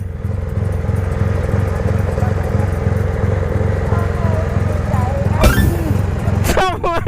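A motorcycle engine running loud and steady close by, its throbbing pulse rising as the bike pulls away, with people talking over it near the end.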